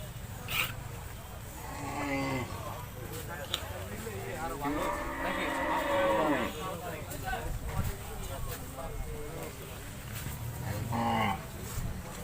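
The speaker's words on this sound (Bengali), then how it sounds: "এই গরুগুলো ঠান্ডা ইন্ডিয়ান গরু না খুবই ভদ্র গরু" Cattle lowing at a crowded market where cows are sold for sacrifice, several drawn-out moos rising one after another at close to middle distance, with people talking throughout and faint hoof knocks.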